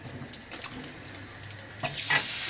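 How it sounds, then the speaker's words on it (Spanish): Water is poured into a cooking pot for Mexican ranchero rice; low background sizzling for two seconds, then a loud, steady splashing rush of poured water to the end. "Entonces ahí le echamos nuestra agua, que aquí la tengo."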